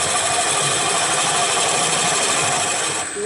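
A turning tool on a wood lathe cutting into baseball bat wood, giving a steady, loud, close scraping and hissing whir that runs unbroken and eases off at the very end.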